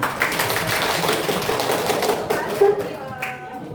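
Classroom applause from a group of students, a dense run of overlapping hand claps that fills the room for a few seconds and thins out toward the end, with faint talk mixed in.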